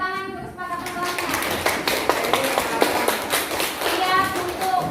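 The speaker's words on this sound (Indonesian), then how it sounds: "tepuk tangan untuk kesepakatan kelasnya" A primary school class in Indragiri Hilir claps hands together, a dense patter of many small hands fairly close by, with children's voices mixed in throughout.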